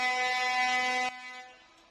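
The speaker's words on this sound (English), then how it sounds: "So you can hear it's similar to the Canadian kind of trucker convoy where they're hooting, but just with tractors." A tractor horn blasts from a farmer convoy arriving in Nijmegen, one loud sustained honk that cuts off abruptly, leaving a fainter horn tone fading behind it.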